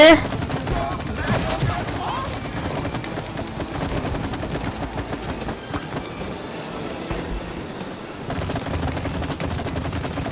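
Rapid gunfire in the video game It Takes Two, aimed at bees and a chain during a queen bee fight, rattling on steadily over dense game music and effects for the whole stretch.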